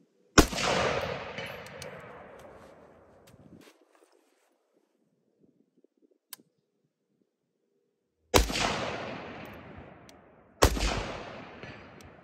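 Three loud, sharp precision rifle shots ring out, the first trailing a long rolling echo for several seconds, then a quiet gap before two more shots about two seconds apart, each fading with outdoor reverberation.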